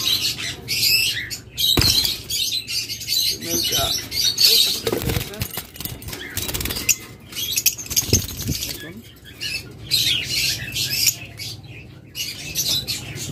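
Green opaline and green opaline ewing parakeets, a male and female pair in a bird-seller's cage, squawk and flap their wings in bursts, with chattering and rustling throughout and someone talking over them.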